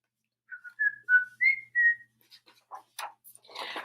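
A person whistles a short melodic phrase of clear, sliding notes, followed by a few faint rustles and soft noises.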